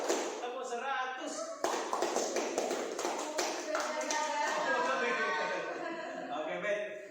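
A classroom group of Indonesian students plays a clapping game, ending in a long rapid flurry of many claps mixed with voices and laughter.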